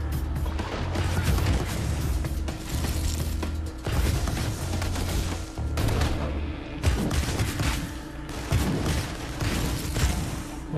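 Heavy, almost unbroken gunfire and booming blasts fill a fight in inFAMOUS Second Son, with loud bursts stacking over one another and a steady low hum running underneath.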